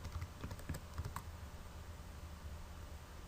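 A computer keyboard is tapped in a quick cluster of keystrokes while working in Mastercam, faint against a steady hiss, then the typing stops and only background noise remains.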